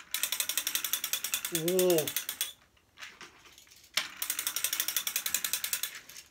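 A Plarail Thomas and Friends toy train runs with its gears turning, giving a rapid, close mechanical clicking whir that stops briefly and then resumes. A short vocal exclamation comes in the middle.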